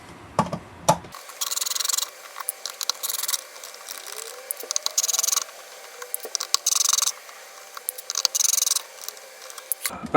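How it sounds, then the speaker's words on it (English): Screws being backed out of the jog wheels on a VCI-100 DJ controller, heard as intermittent close scraping, rubbing and rasping bursts with brief gaps, fairly quiet and without talk. "go ahead and remove the 3 screws per jog wheel"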